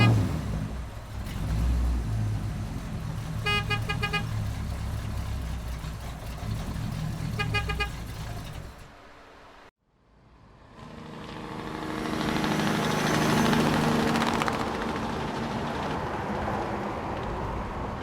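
Toy airport follow-me car with a horn and motor sound effect, a steady engine-like hum with repeated short horn toots, cutting out briefly before a louder second stretch of engine noise.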